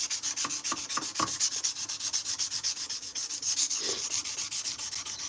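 A knife blade is hand sanded with abrasive paper in steady, rhythmic back-and-forth strokes, close and fairly quiet, the scratchy rasp repeating evenly with no voices.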